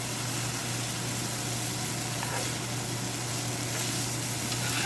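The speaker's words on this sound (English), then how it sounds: "I'm going to fry this for at least 5 to 6 minutes." Chow mein noodles with chili frying in a pan give a steady, close sizzle with a constant low hum beneath, unbroken and without talk.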